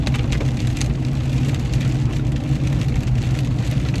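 Rain patters steadily on a moving car while it is driven, a dense hiss of drops layered over a low, constant engine and road hum.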